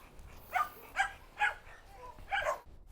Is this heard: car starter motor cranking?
no